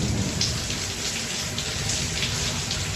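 Steady heavy rain pours down continuously, a dense even hiss of drops drumming on a surface, with no voices.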